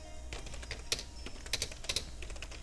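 Fingers typing a message on a computer keyboard produce a handful of irregular, close key clicks, fairly faint, with no speech.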